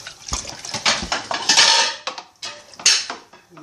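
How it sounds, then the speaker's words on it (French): Ochre paint paste is stirred into water in a pot, a utensil scraping and clinking against the sides in rhythmic strokes with wet sloshing, loud and close with no talking. "on verse la pâte dans l'eau. Et on commence à touiller."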